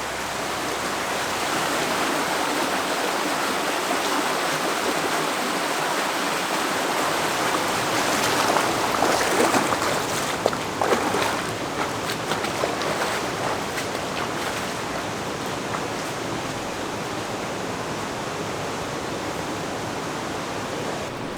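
Creek and waterfall rushing through a canyon, a steady broad roar of flowing water that holds loud and constant throughout, swelling slightly in the middle, with no voices.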